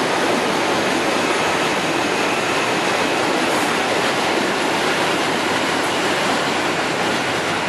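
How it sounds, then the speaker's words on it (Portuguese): Budd RDC self-propelled railcar of CPTM running on tracks, a steady loud broadband rumble and rush throughout with no clear clicks or horn, close by and continuous. "Vemos logo ali na sequência a locomotiva RDC Automotriz"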